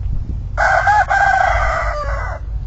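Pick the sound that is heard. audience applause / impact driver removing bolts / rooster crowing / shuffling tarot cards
rooster crowing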